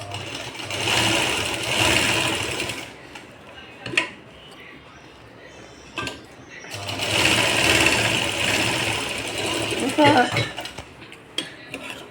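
A sewing machine stitches tucks into the cups of a blouse in two clear bursts of fast, steady whirring, each a few seconds long, with someone talking between runs and small handling clicks.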